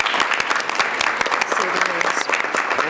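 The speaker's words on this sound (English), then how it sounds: "One more round of applause for the middle school." An audience at a school board of education meeting applauds middle school performers: steady, fairly loud clapping with distinct sharp claps, a voice speaking briefly underneath.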